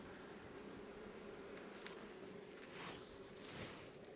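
A honeybee colony buzzing at a crowded summer hive: a soft, continuous drone of many bees, steady and faint, with a couple of brief swells, no talking.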